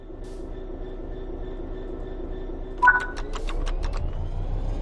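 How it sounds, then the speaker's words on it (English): A locomotive in the Train Sim World 3 game pulls away under throttle: a quiet idle, then a brief clunk and a rapid series of clicks, followed by a rising, rumbling drive sound. "Apply some throttle to get the train moving."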